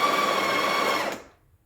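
A Breville Oracle BES870 espresso machine grinds coffee at grind setting 4 into an 18-gram double basket, giving a steady, close motor whir that runs for about a second, then cuts off and fades to silence.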